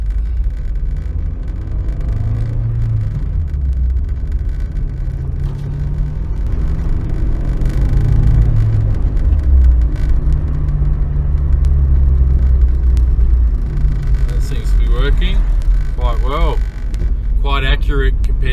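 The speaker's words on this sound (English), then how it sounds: "I'm going to turn my car on." A car's engine runs steadily throughout with a low rumbling hum and some road and wind noise while the car is driven, and a few brief higher chirps appear near the end.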